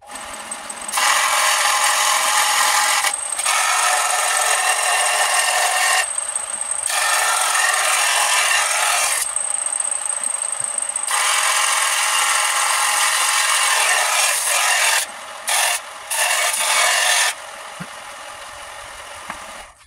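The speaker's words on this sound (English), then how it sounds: "I just use a bench linisher with a steel belt on it" Steel belt on a bench linisher grinding a knife blade, a loud continuous rasping hiss in long passes with short breaks between strokes, no talk.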